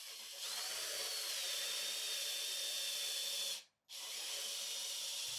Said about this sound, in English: so let's drill it.